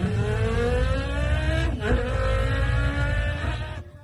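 A young man mimics car engines with his voice, producing a sustained revving drone that rises and falls like an accelerating race car, close and loud, with no other talk.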